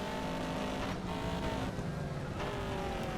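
Mercedes race car engine roaring in TOCA Race Driver 3, a loud continuous drone with pitch shifting through gear changes, close and unbroken.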